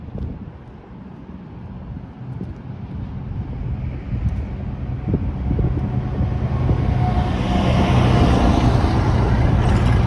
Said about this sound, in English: Normally trucks like this, like the one that just drove past, are much louder than that.